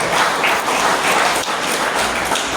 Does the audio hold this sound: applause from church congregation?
yes